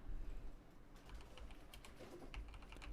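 Typing on a computer keyboard while writing HTML code, a quiet, steady run of light key clicks up close, with no voices.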